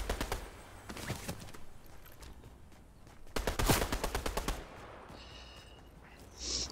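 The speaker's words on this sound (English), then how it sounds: "Somebody's shooting at me" Fortnite gunfire rattles out in short rapid bursts, loud and near. A tight string of quick automatic shots stands out in the middle, with a few more isolated cracks around it.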